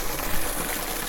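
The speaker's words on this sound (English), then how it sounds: "Seeing a lot of splattering of water" Water splattering and gushing steadily at a pond repair site outdoors, a continuous broadband wash without pauses.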